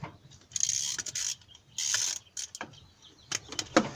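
Cylinder head bolts being loosened on a 2005 Nissan Sentra 2.5L, heard as a series of short metallic ratcheting bursts and clicks at close range, irregular with brief pauses between them and no talking.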